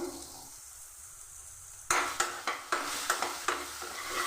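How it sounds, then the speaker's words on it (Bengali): Eggplant slices with turmeric and salt hit hot oil partway through, bursting into loud close sizzling with repeated sharp clinks of a utensil against the pan after a quiet start. "নুন হলুদ দিয়ে বেগুন ভেজে নিচ্ছি"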